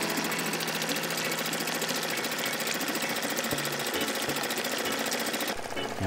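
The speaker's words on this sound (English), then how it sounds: "we're gonna let it idle here for a second and get this warmed up" A Suzuki 2.5 HP outboard motor on a Pelican Bass Raider 10e boat idles to warm up on its first start of the day, a steady, close, loud rapid chugging that runs unbroken throughout.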